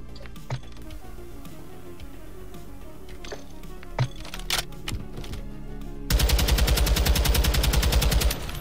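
A Taq 56 rifle in the video game Modern Warfare 2, fitted with a Komodo Heavy grip, fires scattered single shots early on, then a loud, sustained rapid-fire burst near the end, with no talking.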